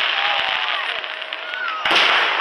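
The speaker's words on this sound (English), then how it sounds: "these are very pretty fireworks" Fireworks burst in a dense crackling barrage, rapid sharp pops and whistling streaks with a louder blast near the end, voices faintly present.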